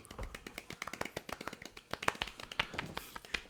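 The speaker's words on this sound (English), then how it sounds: "All around golf clap for everybody." Podcast hosts give a light golf clap: a quick irregular patter of soft handclaps from a few people, close-miked, running steadily for several seconds with faint voices mixed in.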